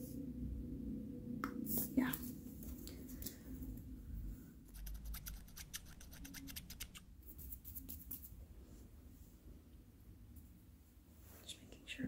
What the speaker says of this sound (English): I'm just gonna cut a few of these little bits on the side here.